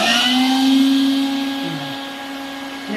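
A Festool CT15 dust collector runs as a blower with a small attachment fitted, giving a close, steady motor whine with bright sustained tones. The whine fades slightly toward the end, with a brief lower warble partway through.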